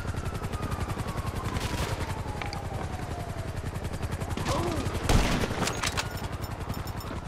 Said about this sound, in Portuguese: Deixa eu derrubar logo esse helicóptero.